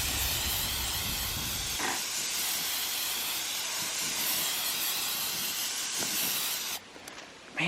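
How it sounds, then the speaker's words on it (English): Meguiar's headlight coating sprays from an aerosol can onto a car headlight, a continuous close hiss with a few brief bursts, dropping off near the end. "now we're going to supply this headlight coating here."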